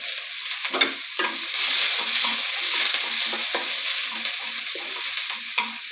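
Sliced onions fry in hot oil for a drumstick coconut milk curry, a dense crackling sizzle running throughout with the repeated scrape of a spatula stirring close by.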